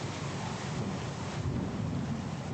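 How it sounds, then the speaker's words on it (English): A storm rages in the fantasy role-playing game Pillars of Eternity 2 Deadfire, with a steady roar of rain and wind and a deep thunder rumble underneath, constant and loud throughout. "The storm's pretty loud."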